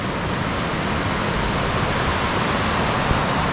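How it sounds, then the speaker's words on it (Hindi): Glacier-fed Bhaba river rushing through the Kinnaur valley in Himachal Pradesh, a loud, steady broadband roar of fast water close by, unbroken for the whole stretch with no voices. "ये भाभा रिवर है, जो कि किन्नौर वैली में बहती है ये वाली रिवर"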